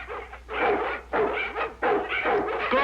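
Several dogs bark repeatedly in loud, close bursts, with yips and whimpers mixed in across the span.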